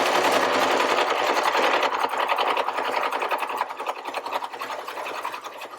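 Sewing machine running steadily while stitching a pocket cloth diaper with PUL fabric, a continuous close whirring hum throughout that eases slightly toward the end, with no talking.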